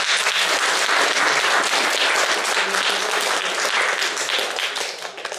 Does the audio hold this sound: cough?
no